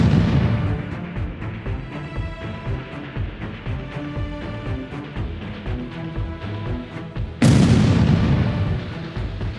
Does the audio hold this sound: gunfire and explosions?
yes